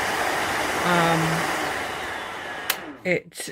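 A Zephyros dust collector running with suction on, a steady close whooshing airflow hum that cuts off near the end, followed by a few brief handling noises.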